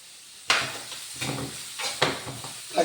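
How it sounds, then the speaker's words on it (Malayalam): Mustard seeds and dal tempering in hot oil, with sharp popping sizzles bursting out in several loud spurts over a continuous frying hiss, close by. "കടുക് താളിച്ച്, ഉണ്ണും പരിപ്പ് താളിച്ച്"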